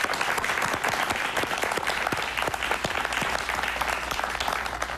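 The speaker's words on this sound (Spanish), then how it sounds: "Un aplauso, por favor." A studio audience claps for a guest on a talk show, a dense, even burst of applause that holds steady and fairly loud for several seconds.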